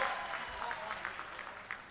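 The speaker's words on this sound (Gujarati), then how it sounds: "એમની માટે એકવાર જોરદાર તાળીઓથી એમનું સ્વાગત કરીએ।" An audience at a political party gathering applauding, a dense patter of clapping from many hands, faint and somewhat distant, lasting under two seconds.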